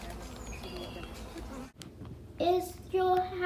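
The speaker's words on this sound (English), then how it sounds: "you can see we got a few bees up in here" Bees in a beehive calmed by a beekeeper's smoke give off a steady, low buzzing hum, with voices talking over the second half.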